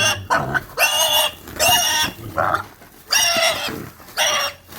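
A piglet of about 19 kg grunts and squeals in a series of four or five loud, close bursts separated by short pauses, with no one talking.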